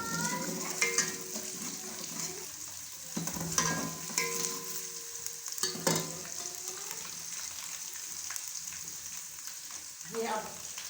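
Ginger and garlic sizzle steadily in hot oil for achar gosht while a spoon scrapes and stirs the pan now and then, close and fairly quiet, with no voices.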